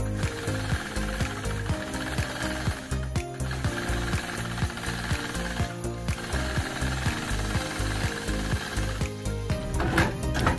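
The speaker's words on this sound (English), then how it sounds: "I'll start out by machine quilting a small kind of swirly pebble in the corner." A sewing machine runs steadily in free-motion quilting, its needle chattering in a fast continuous rhythm up close, with no voices heard.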